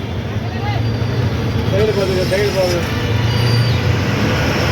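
Busy road traffic near a wholesale market in the evening, a continuous rumble of engines with passing vehicles and faint horn tones, while someone speaks over it throughout.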